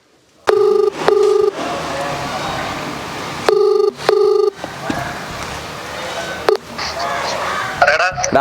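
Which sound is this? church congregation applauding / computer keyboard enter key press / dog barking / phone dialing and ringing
phone dialing and ringing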